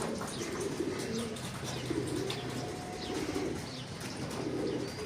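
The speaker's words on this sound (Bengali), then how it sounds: "কবুতর হিটে চলে আসে তখন এরকম হাঁপায়" Racing pigeons coo steadily at close range, overlapping low throaty murmurs that continue throughout, with a few light chirps mixed in.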